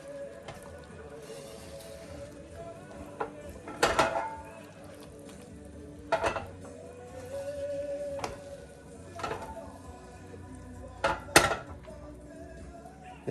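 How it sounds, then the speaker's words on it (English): Salted peppers and vegetables stirred in a bowl, giving a few scattered clinks and scrapes of a utensil against the dish over a quiet background. "Stir it around a little bit."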